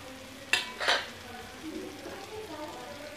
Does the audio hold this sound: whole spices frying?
yes